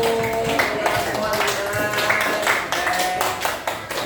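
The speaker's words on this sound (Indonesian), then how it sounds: "Tepuk tangan untuk kelompok 1." A university class in Yogyakarta applauds group 1 after its presentation, with scattered, moderate clapping heard under and between voices.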